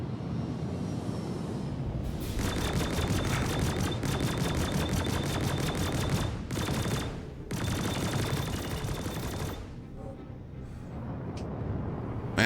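Ship guns of a C8R Pisces in Star Citizen fire in rapid, loud bursts over a low engine rumble, two long volleys and a shorter one between brief pauses, with no voices.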